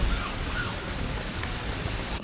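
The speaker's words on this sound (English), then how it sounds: "Took a bit of rain down" Steady rain falls, a dense hiss of drops on surfaces nearby, continuous and fairly loud with no voices.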